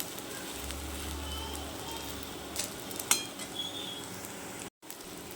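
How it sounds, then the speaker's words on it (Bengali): Dhone pata (coriander leaf) pakoras frying in oil over a low gas flame, giving a steady soft sizzle with a few small pops and crackles, faint and close, with no voices. "এবার গ্যাস কমিয়ে আমি আরেকটা দিক ভাজতে দেবো।"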